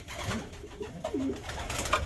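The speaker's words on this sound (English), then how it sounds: "He's a really nice pigeon." A large pigeon coos close by, with soft throaty warbling calls rising and falling over low room noise.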